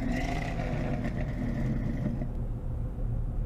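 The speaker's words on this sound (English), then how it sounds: "Here's what it sounds like to start." A 1969 BullHorn Prancer TR in the Greenville video game starts up, its engine cranking and settling into a steady low rumble with some clatter, loud and close with no talk.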